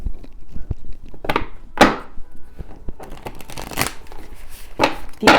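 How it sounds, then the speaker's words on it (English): Tarot cards being shuffled by hand in a series of crisp riffling bursts with soft taps and handling noises between them, close and clear with no talking. "Let's give them another shuffle."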